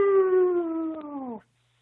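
A man imitates a howl with his voice: one loud, sustained, slightly falling tone lasting over a second, then cutting off into silence.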